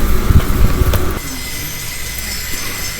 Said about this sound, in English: The train brakes and passengers got on the crowded train.